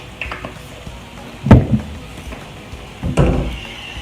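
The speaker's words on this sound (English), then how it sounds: "keep just chopping away at it with the wooden spoon" A wooden spoon chops and stirs minced meat in a pan for spaghetti bolognaise. Two distinct scraping knocks come amid a faint background hiss, with no voices.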